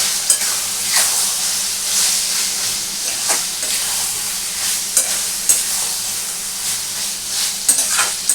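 Ridge gourd chapor ghonto dusted with a little flour sizzles in a frying pan while a spoon stirs and scrapes it in repeated strokes, with a steady hiss underneath.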